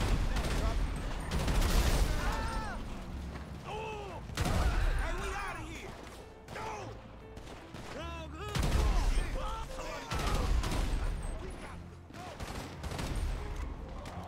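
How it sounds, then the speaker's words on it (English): Explosive bullets fired in a video game, with dense rapid bursts of gunfire and blasts rolling through the whole stretch, loud and layered with other game effects. "Explosive bullets"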